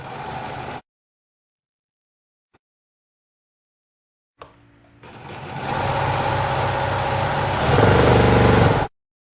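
A sewing machine runs steadily as quilt block seams are pieced beneath the presser foot, building to a loud continuous whir after a brief opening burst and a silent stretch.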